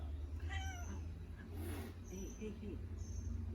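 An old cat named Chili, who cannot retract her claws, lets out a short cranky meow amid a brief scuffle, fairly faint against steady low background hum.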